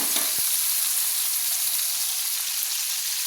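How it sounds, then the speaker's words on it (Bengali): Capsicum frying in a pan on the stove, giving a dense, even sizzle that holds steady throughout, with a few soft low knocks and stirring sounds underneath. "ক্যাপসিকামটা আমার ভাজা হয়ে এসছে"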